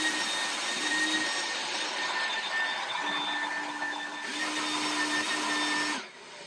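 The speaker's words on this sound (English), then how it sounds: "we're going to start off by vacuuming off the back of the unit and vacuuming off the" A vacuum cleaner drones loudly and steadily while cleaning the back and inside of a clothes dryer, its motor tone shifting slightly as the nozzle moves, then cutting down near the end.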